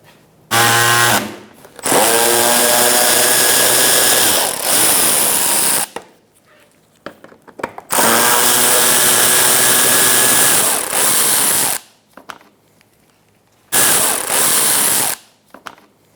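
Loud, close bursts of a power tool with an 8mm socket removing washer reservoir bolts on a 2004-2009 Mazda 3, several whining runs broken by short pauses and faint clicks.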